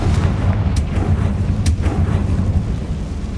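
A Confringo blasting spell cast in Hogwarts Legacy, a deep rumbling explosion that rolls on with a couple of brief crackling bursts on top, loud and sustained.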